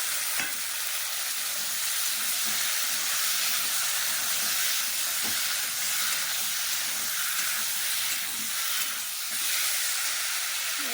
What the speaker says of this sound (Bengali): এটা এখন ভালো করে ভেজে নিই তাহলে